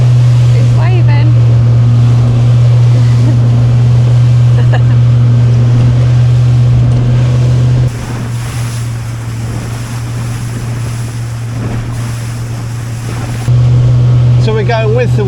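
Motorboat engine droning steadily while running with the wind through waves near Portsmouth, loud and close with heavy wind buffeting the microphone and water rushing throughout; a voice is faintly present.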